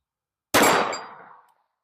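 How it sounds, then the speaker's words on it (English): A single sharp, loud report from a Chiappa Rhino 30DS .357 Magnum revolver firing a Hornady Critical Defense round, with a sudden onset and about a second of metallic ringing decay, heard alone. "next up will be a Hornady critical defense round. It's a nice soft shooting round."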